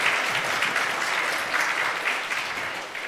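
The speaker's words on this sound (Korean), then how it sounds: "예, 우리 박수로 환영하겠습니다." A church congregation breaks into applause to welcome a visiting guest, a close, full and continuous burst of many hands clapping at an even level.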